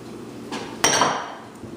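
Thawed frozen peas land on a layered salad in a sudden clattering spill that trails off into a soft, fading patter, close and fairly loud.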